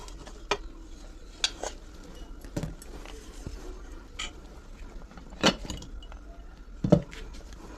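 Pots, lids and metal utensils clatter and clink in scattered sharp knocks as mini milk chitoi pitha are lifted off the pan, close by in a quiet kitchen.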